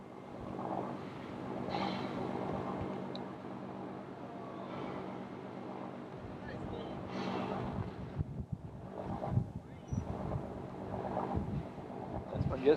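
A lobster fishing boat idles at a harbor while refueling, its engine a low, steady rumble under wind buffeting the microphone, with a few louder knocks and clatters near the end.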